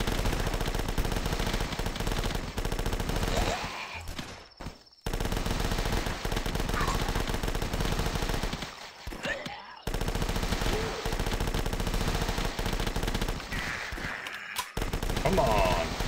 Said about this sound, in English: Just start firing now